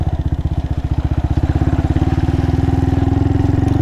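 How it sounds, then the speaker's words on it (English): A Honda Monkey 125 motorcycle ridden off-road through mud, its single-cylinder engine thumping in a steady close pulse that climbs slightly in pitch and loudness as the rider pushes on, with no talk over it. "I've never had this bike slip out once with these tires going through all this mud"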